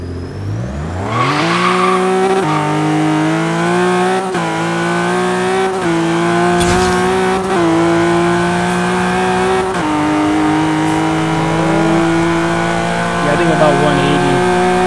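A 700-horsepower 1995 BMW E34 M5 with a turbocharged S38 engine accelerates hard in Forza Horizon 3, its loud engine note rising steadily through several gear shifts with brief dips between them, continuous over roughly fifteen seconds.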